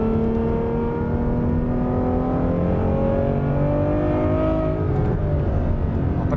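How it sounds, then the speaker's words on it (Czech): A Ferrari F12 Berlinetta 6.3-litre V12 engine roars steadily and climbs in pitch as it accelerates hard, loud and close throughout. "stačí lehce šlápnout na pedál plynu a to auto zrychlí s brutální silou a s brutálním zvukovým doprovodem"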